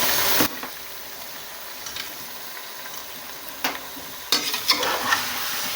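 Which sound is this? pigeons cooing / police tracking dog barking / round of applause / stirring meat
stirring meat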